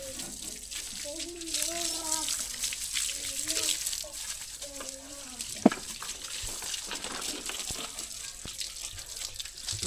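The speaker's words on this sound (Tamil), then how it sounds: "அவன் மேலே தண்ணி ஊத்தாரா?" Water is poured over someone during an Ayutha Pooja celebration with tractors, a steady splashing wash under outdoor chatter and a voice, with one sharp clatter midway.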